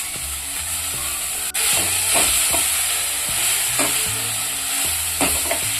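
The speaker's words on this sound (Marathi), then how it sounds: "फक्त ही भाजी जरा फ्राय करून घ्यायची" Fenugreek leaves with chili frying in a pan for a bajra flour breakfast dish, giving a loud, steady hiss and sizzle with occasional spoon knocks and scrapes as they are tossed.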